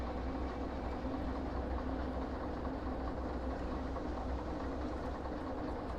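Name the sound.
train engines running in a train driving video game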